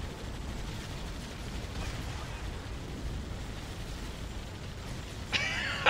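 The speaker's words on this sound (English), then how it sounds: "Look at all the bullets flying everywhere." Rapid gunfire and explosions from Warthog vehicles in a Halo Wars video game battle, a dense continuous barrage of shots and blasts with a sharper burst near the end.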